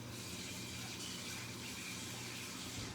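Tap water runs steadily into a kitchen sink to cool a hot pot used for making hot chocolate, a faint, even hiss and splash continuing unbroken throughout.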